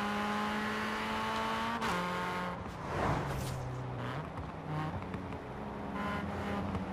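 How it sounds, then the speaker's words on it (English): Car engine and exhaust in Forza Horizon 4 during the Ambleside Sprint, revving with steady tonal drone that shifts pitch through gear changes, with crackling pops and bursts mixed in, continuous and fairly loud. "Just listen to the popping!"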